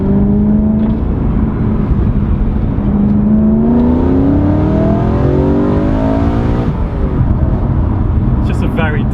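A sports car engine, either a Mercedes C63 AMG or a BMW M3, revs loudly through downshifts, its pitch climbing and falling in repeated sweeps with a close, continuous roar.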